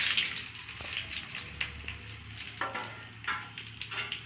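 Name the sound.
tempering spices sizzling in hot oil for sambar rice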